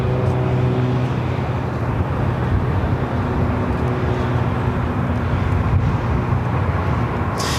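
Heavy Delta Airlines Airbus A350-900 arriving at LAX from Tokyo Haneda, a steady broadband jet roar with low rumble, sustained and fairly loud, with some wind buffeting on the microphone.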